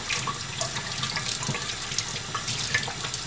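Food rinsed under a running kitchen tap, a steady close splash of water into a sink with small clinks, continuous throughout with no talking.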